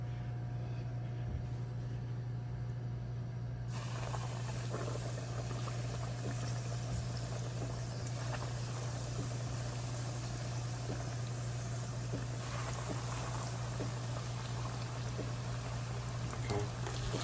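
Steady sizzling and bubbling of orange ghost pepper fried chicken frying in a pan, a continuous hiss with no talking.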